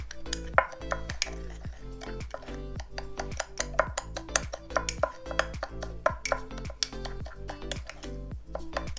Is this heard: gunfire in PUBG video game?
no